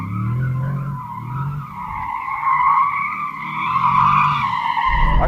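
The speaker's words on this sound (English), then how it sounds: "Let's see how easy this car is to slide with the stability off." An SUV slides on tarmac with stability control off, tyres squealing in a long rising-and-falling skid over a low engine drone, close and loud. The car is either a Porsche Cayenne Turbo GT or an Aston Martin DBX707.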